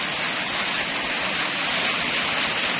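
Very heavy rain pouring down, a dense, constant roar of broadband noise with no pauses and no voices.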